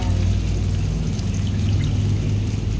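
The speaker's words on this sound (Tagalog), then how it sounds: "Next naman natin ilalagay itong gata. Ito ay pure gata." Pure coconut milk pours into a pot of chicken curry, a steady liquid trickle and splash over the low simmer and kitchen hum, continuous and close.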